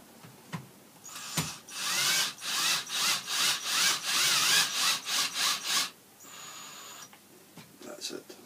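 A power driver sinks a wood screw into a walking stick dowel, several short whirring bursts in a row, loud and close, followed by quieter handling and small knocks.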